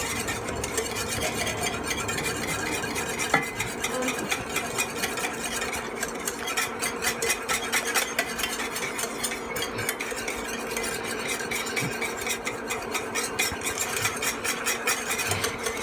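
A whisk scrapes quickly and steadily against a bowl as flour and sugar are mixed for a mint chocolate chip ermine frosting, a dense run of fast metallic clicks and swishes that carries on without pause and with no talking.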